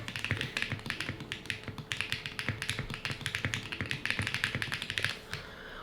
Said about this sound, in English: it doesn't feel like a keyboard to type on